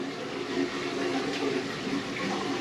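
Water rushes steadily through a 600-gallon freshwater planted aquarium, a continuous broadband wash of moving water with no breaks and no voices.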